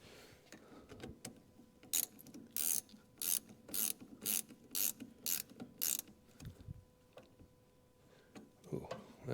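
A ratchet clicks in a fast run of sharp, evenly spaced bursts while tightening and loosening a fitting, close and crisp, with quieter fiddling noises before and after.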